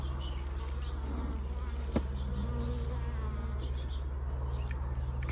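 A captured wild honeybee swarm buzzes inside its hive, a dense, continuous drone heard up close with a single soft knock partway through and no talk.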